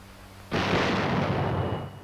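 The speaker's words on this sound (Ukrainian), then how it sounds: "105-мм гармата." One heavy 105 mm cannon blast in a game booms out suddenly and rolls on for over a second before fading, loud and close.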